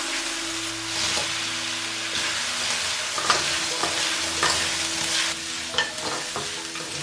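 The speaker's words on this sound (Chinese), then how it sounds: "炒到断生了之后，把蛏子放进来翻炒" Razor clams tossed in a wok with garlic and red and green peppers, a loud continuous sizzle with repeated scraping stir strokes and small clatters, close and without talk.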